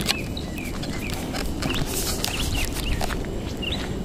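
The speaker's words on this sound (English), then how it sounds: "Birds out here making a lot of nice noise, chirping." Birds chirping outdoors, brief high scattered calls over a heavy rumbling, noisy background of footsteps and movement, fairly faint and intermittent throughout.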